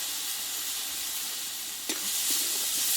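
Masala with chopped coriander leaves sizzles in a pan for a Bengali potato and pointed gourd curry, a steady hiss broken by a couple of spoon knocks as it is stirred.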